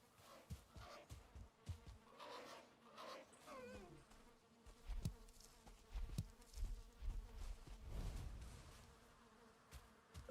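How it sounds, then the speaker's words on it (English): Bees buzz in Valheim, a wavering insect drone drifting nearer and farther, with scattered soft thuds beneath it. "Thought I heard bees."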